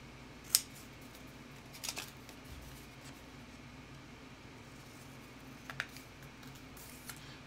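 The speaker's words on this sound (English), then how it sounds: "We're gonna trim off the excess." Scissors trim excess from adhesive-backed paper circles for a handmade card, giving a few sharp isolated snips spaced several seconds apart, close but quiet against a faint background hum.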